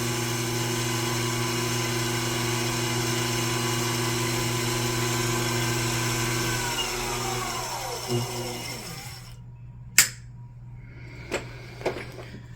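A watchmaker's lathe runs near top speed with a steady, fairly quiet motor whine, then spins down in falling pitch and stops, followed by a few sharp clicks in the silence.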